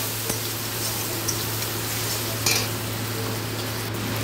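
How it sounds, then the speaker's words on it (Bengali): Prawns seasoned with turmeric and salt are stirred and fried in a pan, giving a steady close sizzle with a few light clinks of the utensil against the pan over a low background hum. "খুব ভালোভাবে নেড়ে চেড়ে চিংড়ি মাছগুলোকে ভেজে নেব"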